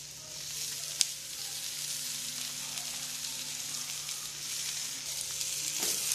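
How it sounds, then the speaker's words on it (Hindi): Tomatoes frying with spices in a pan for bindi masala (okra), a steady close sizzle throughout with one small sharp clink near the start. "अब हम इसमें डालेंगे टमाटर।"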